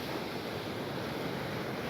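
Ocean waves roll onto a beach shore in a steady, loud wash of surf, with wind buffeting the microphone throughout and no voices.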